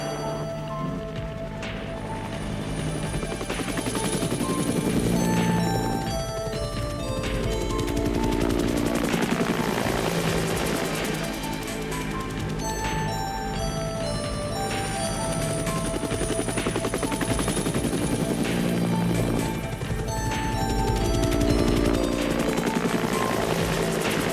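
Rigid-rotor aerobatic helicopter flying a display at the 1985 Paris Air Show, a loud continuous rotor thump and turbine whine that swells and fades as it manoeuvres, heard without talk.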